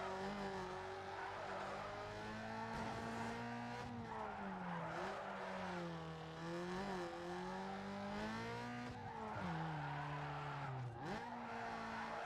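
Tires skid and squeal continuously as a car drifts, wiggling back and forth in a video game, its engine droning and pitch swooping up and down throughout, loud and up close with no talking.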